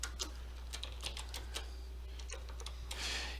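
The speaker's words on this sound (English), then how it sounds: "Let me type a password in here" Quick run of light, clicky keystrokes as a password goes into a login screen on a keyboard, irregular taps close by over a low steady hum, with no voices.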